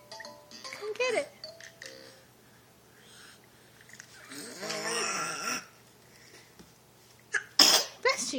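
A single sharp, loud sneeze bursts out near the end, following quieter scattered sounds from a person playing with a pet monkey.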